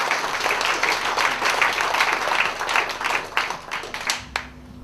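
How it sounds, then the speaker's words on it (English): An audience breaks into lively applause with crisp individual claps standing out, holding strong for about four seconds before quickly dying away to near silence. "Can you give him a big round of applause as well?"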